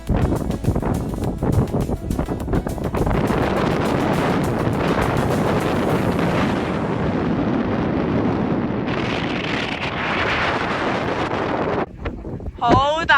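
Strong wind roars across the summit of Mount Agung volcano in Bali, a loud continuous buffeting rush battering the microphone, easing briefly near the end.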